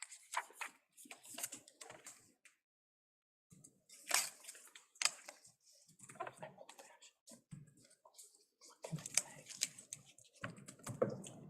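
Computer keyboard typing during a bargaining meeting, soft irregular clatters of keystrokes in scattered bursts with brief gaps, faint and close.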